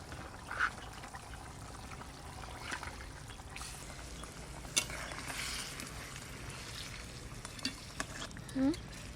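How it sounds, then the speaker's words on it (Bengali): Sea para fish go into a boiling curry in a pan, a soft bubbling sizzle with scraping stirs and a few brief splashes and clinks, fairly quiet and with no talking. "ঝোলটা খুব সুন্দর ফুটে গেছে, এবার মাছ কটা দিয়ে দেবো।"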